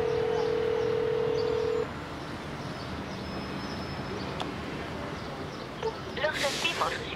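An unanswered phone call in Chile gives a loud steady ringback tone that cuts off early, then a quieter stretch of line hiss with faint beeps, and brief speech near the end.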